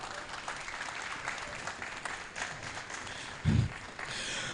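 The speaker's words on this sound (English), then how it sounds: "Ladies and gentlemen, with a round of applause and a standing ovation, help me welcome Professor Victor Kwame Ajiman, Esquire." A conference audience applauds to welcome a professor on stage at an admin professionals event, a faint, distant, continuous patter of clapping with one brief louder thump near the end.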